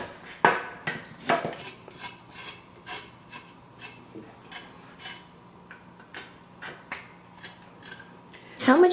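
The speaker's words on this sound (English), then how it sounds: "And then I'm going to cut up the rest of the seasonings and the ginger." Knife cutting ginger and seasonings on a board for kimchi, a rhythmic series of close, crisp chopping strokes, roughly two per second, with a few louder knocks.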